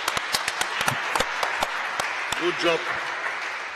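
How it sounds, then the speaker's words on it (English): Applause for the winning team at a 2018 datathon ceremony, a crowd clapping in sharp separate claps, with a voice briefly speaking near the end of the clapping. "big applause for them"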